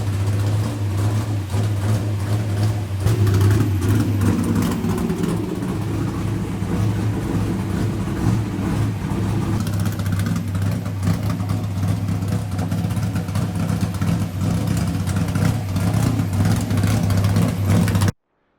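A 1965 Chevrolet C10 pickup engine runs steadily close by, a deep low rumble that holds through the stretch with slight swells in revs, loud and continuous before cutting off abruptly at the end.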